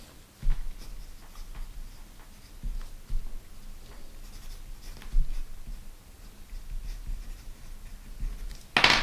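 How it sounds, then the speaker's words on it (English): A pen scratches across paper in short, irregular strokes and taps, close and fairly quiet in a still room, with no voices. "I will literally write, what do I want to improve in my life?"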